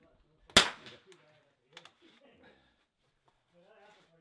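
A single sharp rifle shot cracks into a dirt berm at an outdoor NRL22 match range, loud and close with a short decay, followed by quiet clicks and faint talk.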